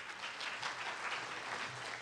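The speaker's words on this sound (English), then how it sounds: "I appreciate the applause" Faint, distant applause from an audience at a public meeting, a short steady patter of clapping heard from afar.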